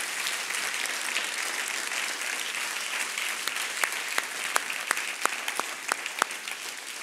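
A church congregation applauds during a French-language service, with dense, steady clapping throughout and a few sharper individual claps standing out toward the end, no voices heard over it.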